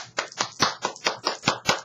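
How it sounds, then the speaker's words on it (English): A small round of applause comes across as a few hands clapping close by in a steady rhythm, about eight crisp claps spaced evenly with no talk over them. "So we're going to give her a round of applause,"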